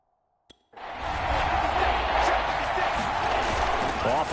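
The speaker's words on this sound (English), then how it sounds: "This stadium once registered as the loudest roar ever recorded, and you can hear them now." A roaring crowd in a Seahawks stadium in Madden 22 football, during a 49ers away game; after a short click, a loud, sustained wall of cheering and noise rises abruptly and holds steady, with talk mixed in.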